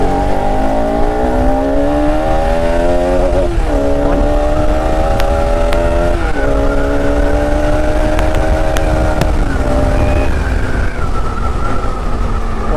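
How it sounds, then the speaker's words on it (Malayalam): A BS3 Bajaj Pulsar RS200 motorcycle revs hard against its rev limiter with a loud exhaust note. It runs up in repeated climbing pulls, each ending in a stuttering bounce at the cutoff, close and continuous throughout. "ആ എക്സോസ് നോട്ടൊക്കെ നല്ല രീതിക്ക് ലൗഡായിട്ടുള്ള എക്സോസ് നോട്ടും കാര്യങ്ങളൊക്കെ ഈ വണ്ടിയിൽ നിന്ന് വരുന്നുണ്ട്"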